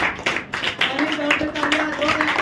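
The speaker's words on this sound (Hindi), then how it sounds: "चलो जोरदार तालियां अगेन भगत सिंह के लिए।" Students at a school general knowledge quiz clap together in a brief, steady burst, with voices mixed in under the clapping.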